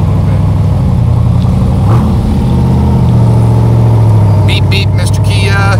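A 1967 Corvette C2 with a 427 cubic-inch, 435 hp Tri-Power V8 rumbles loudly and steadily with a deep low-end drone, pitch rising slightly as it pulls away near the end.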